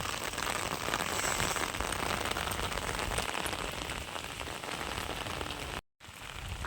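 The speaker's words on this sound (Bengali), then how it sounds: "প্রচুর বৃষ্টি হচ্ছে।" Heavy rain pours steadily on open ground outside a muddy rural home, a dense, continuous hiss and patter that stays loud throughout, briefly cutting out near the end before resuming.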